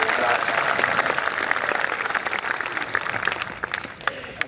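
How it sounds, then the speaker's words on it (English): A congregation at an African Apostolic Church service claps together, a dense sustained patter of many hands that fills the room and thins slightly toward the end, with no voices standing out. "Let's clap unto the Lord."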